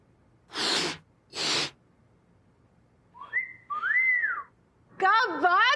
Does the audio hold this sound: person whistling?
yes